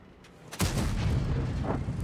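A single heavy tank cannon shot in a tank video game, a sudden loud close boom followed by a long rumbling tail with no talking.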